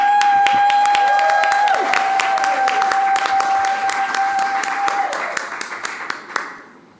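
An awards ceremony audience for gender-just climate solutions bursts into loud, sustained applause. Dense clapping continues for several seconds, a tone sounds under it, and the applause thins and fades out toward the end.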